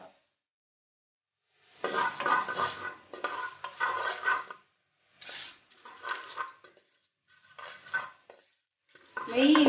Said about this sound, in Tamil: நெய் உருகி கொண்டு வர்ற தருவாயில் பிரிஞ்சி இல 3 கருவாப்பட்டை, 6 கராம்பு, லவங்கம், 1 ஏலக்காய் இதையும் போட்டு கொஞ்சம் வதக்க போகிறோம்